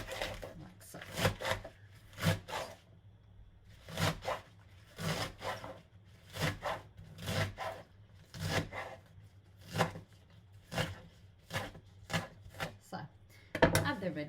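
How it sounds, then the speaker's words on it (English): A knife chops cooked vegetables on a board in a tiny kitchen, a steady run of soft, crisp cuts in quick clusters, close and fairly quiet. "And then you want to put them all together and just chop them like so."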